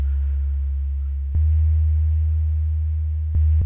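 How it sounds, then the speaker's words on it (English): Simple bass line from a sample instrument, deep steady sustained notes changing pitch twice with a clean attack, faint noise from the original sample underneath. "this is a super simple bass line"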